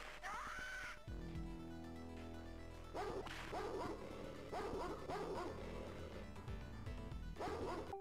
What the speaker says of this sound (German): Da unten ist so ein scheiß Hundi